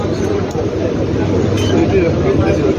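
Mumbai local commuter train running, a steady loud rumble and rattle from inside a crowded carriage, with passengers chattering in the background.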